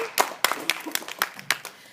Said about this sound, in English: Let's go ahead and give Jess a round of applause and welcome her as the second speaker for the opposition.